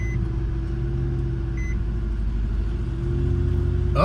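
A Chevrolet High Country truck's Duramax diesel engine idles with a low, steady droning rumble, close and loud, swelling slightly toward the end. A couple of faint electronic beeps sound over it.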